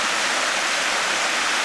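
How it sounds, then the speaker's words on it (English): Salisbury Falls pours as a continuous, loud, broadband roar of falling water, heard alone and close without any voices. "And what a spectacular waterfall it is."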